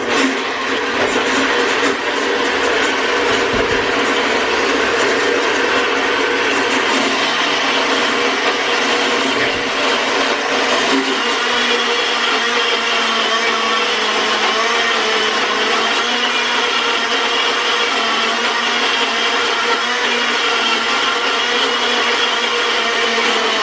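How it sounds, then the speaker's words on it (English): A countertop blender whirs steadily for over twenty seconds, loud and continuous, blending a blueberry cheesecake filling for a no-bake vegan paleo dessert, with the motor pitch shifting slightly partway through. "Got to blend this up."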